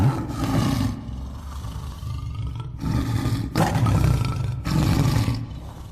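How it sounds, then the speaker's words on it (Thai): A large tiger roars loudly and close in a jungle setting, three long rumbling roars with short pauses between them, used as a sound effect in a Thai narrated story. "ไม่นาน เจ้าเสือเจ้าของเสียง มันก็ปรากฏตัวออกมาจากราวป่าให้เห็น"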